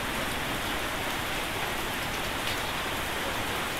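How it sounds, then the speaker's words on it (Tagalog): Heavy rain pours steadily on Polillo Island, a dense, even hiss of drops on surfaces with no breaks, close and loud throughout. "Kaso nga lang, umuulan naman. Hindi kami makagala. Hindi kami makalis. Lumakas ang ulan."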